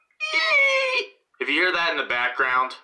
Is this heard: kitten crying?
yes